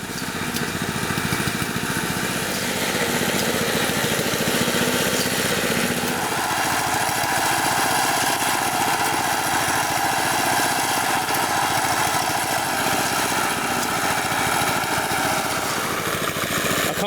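A motor powers a drilling rig at a house construction site in the Philippines. Its loud, steady engine drone runs close and continuous throughout, and its tone shifts slightly partway through.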